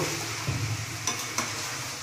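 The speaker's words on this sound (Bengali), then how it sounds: "ফুলকপি এবার লাল লাল করে ভাজা হয়ে গেল" Cauliflower frying in oil with a soft, steady sizzle, broken by a few quiet clinks of stirring; fairly faint, no talking.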